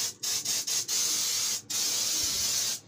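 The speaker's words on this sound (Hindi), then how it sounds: "ये देखें आपके सामने मैं स्प्रे कर रहा हूँ" An insecticide spray can is fired inside a pigeon coop in several short hissing bursts, then in longer sustained sprays, each close and sharp with quiet gaps between.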